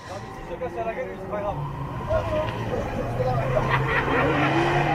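A rally-cross race car revs hard on full throttle and slides into a spin, engine roaring and tyres scrabbling, while a commentator talks over it.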